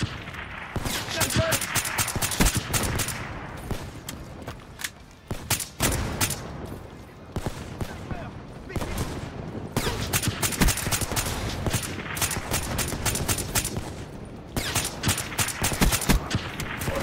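Dense bursts of automatic gunfire and rapid shots crackle through a Call of Duty Black Ops 3 match, loud and near, repeating in irregular volleys with brief gaps, while players talk over the action.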